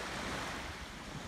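Surf washes steadily onto a beach where shells are being gathered, a continuous dense roar with wind noise across the microphone.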